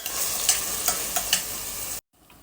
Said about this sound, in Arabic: بضيف حبتين 2 طماطم مقطعهم برضه بالسكينة مقطع صغير، وحبتين فلفل حار اختياري، وهسيبهم يتسبكوا مع بعض